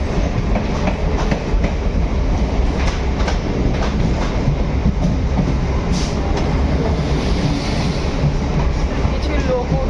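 An empty passenger train runs steadily on its rails, with a continuous loud rumble and faint clickety-clack of wheels throughout, close and unbroken.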